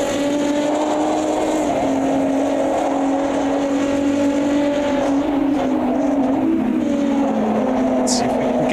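A race car engine in the Automobilista 2 sim at Goiânia drones loud and steady throughout, its pitch sliding slightly as it pulls out of a corner, with no talk over it.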